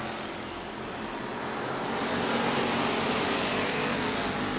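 Race cars roaring past on the New Smyrna Speedway oval during a Bomber B 20-lap race, a dense, steady engine drone that swells slightly louder midway and holds with no voices.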